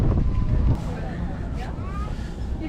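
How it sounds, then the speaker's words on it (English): Strong wind gusts buffet the microphone at the top of the Empire State Building in New York City, a loud rushing roar that eases slightly partway through. "It's gonna be like super windy as heck."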